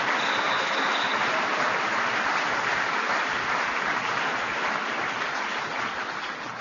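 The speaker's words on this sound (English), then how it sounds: "Let's give another round of applause for the Governor of North Dakota, Governor Doug Burgum." An audience at a Mike Pence speech in Fargo, North Dakota applauds Governor Doug Burgum, a dense, steady wash of clapping that holds for several seconds and eases slightly at the end.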